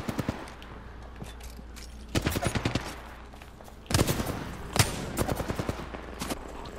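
Gunfire from the Apex Legends video game comes in rapid bursts of sharp shots, several volleys spread across the clip, with quieter stretches of in-game background between them.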